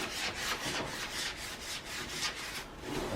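A brush spreads varnish over an oil painting during restoration, making quick up-and-down strokes heard as a close, soft, rhythmic rubbing swish that repeats steadily with no speech.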